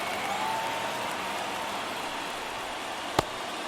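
A stadium crowd in the baseball video game MLB The Show 22 keeps up a steady, even roar of cheering that fills the background, broken once by a brief sharp click near the end. No one speaks.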